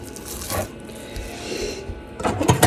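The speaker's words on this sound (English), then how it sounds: "And you want to rub it in, but you want to make sure that you also rub into these ends." Hands rubbing curing mix into raw pork loins, a close, continuous moist friction and scraping with soft thuds, growing louder near the end.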